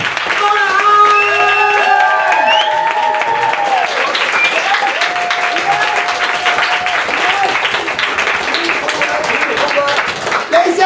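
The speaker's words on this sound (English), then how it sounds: "keep clapping, give it up for Rollins" Loud, sustained applause and clapping from a comedy club crowd at a stand-up show fills the room, with a voice calling out and a few cheers over the continuous roar of hands.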